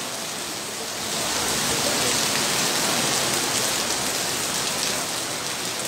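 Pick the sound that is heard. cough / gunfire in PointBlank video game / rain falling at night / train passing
rain falling at night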